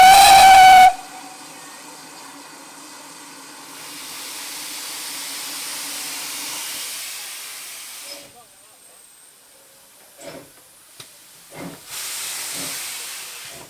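Steam locomotive 1369 on the South Devon Railway gives a loud short whistle blast, then a long steady hiss of escaping steam, followed by quieter clanks and puffs near the track.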